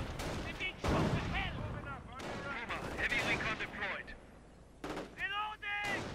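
Artillery fire in a wartime strategy game cracks out as several heavy, echoing blasts mixed with battle noise and shouted unit voices, the booms landing irregularly and fairly close.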